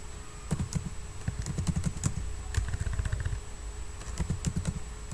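Typing text on a computer keyboard while building a Scratch calculator project, a steady run of quick, close key clicks in uneven clusters over a constant background hum, no voices.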